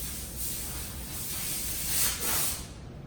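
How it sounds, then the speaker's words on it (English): Air hose hissing in the background of an auto detailing shop, a steady breathy spray that swells twice, moderately loud and alone. "he's got the air hose in the background"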